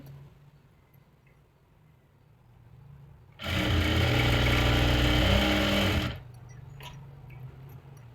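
A sewing machine runs a steady, loud stitching burst of about two and a half seconds on a dhoti salwar, its motor whirring evenly before stopping, with quiet room tone around it.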